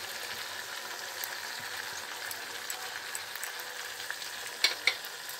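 A pan of flat white beans sizzles with a steady, soft frying hiss, with a couple of brief sharp clinks near the end.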